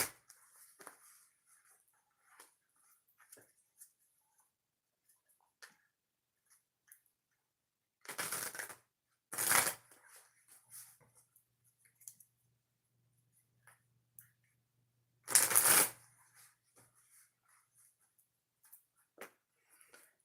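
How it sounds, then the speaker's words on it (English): Tarot cards are shuffled in three short, crisp riffling bursts separated by quiet pauses, close by and with no voice over them. "3 shuffles, Sagittarius."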